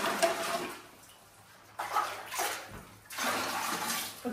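Water splashes and trickles in short bursts as hands are washed at a home in El Salvador, fairly faint with quiet pauses between the pours.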